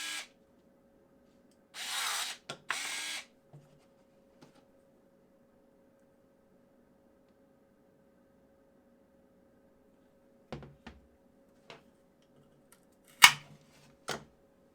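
Parkside 4V electric pruning shears cutting a 14mm branch, a brief motor whir followed by sharp snipping clicks, all faint and close in an otherwise quiet setting.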